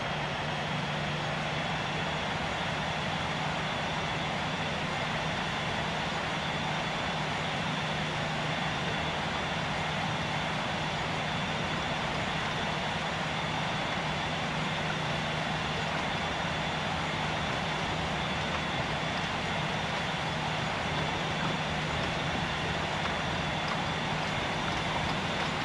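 Cathay Pacific Airbus A350-1000 engines roaring steadily through the takeoff roll, a continuous loud broadband rumble with a sustained whine, heard from inside the cabin with no voices.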